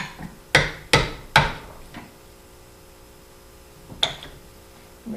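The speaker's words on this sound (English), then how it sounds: "I'm going to hammer the tip here a little bit, smashing it down, basically rendering it useless" Hammer pounding the tip of a bolt to deburr and flatten it: three sharp metallic strikes in quick succession, a lighter tap, then a single strike after a pause, close and loud.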